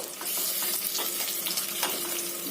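Onions frying with ground garam masala in a pan for Kashmiri rogan josh, a continuous close sizzle broken by scraping stirring strokes, fairly loud and steady.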